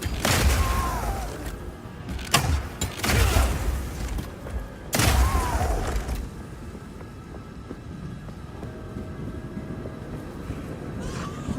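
Grenades lying on the ground being set off in the video game Path of Exile 2, giving a few loud, close booming blasts in the first half that leave a lingering rumble of game sounds.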